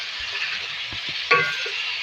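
Beef being stirred into fried onions in a pot, sizzling steadily with brief scrapes and a metallic clink of the spoon, close up and without talk.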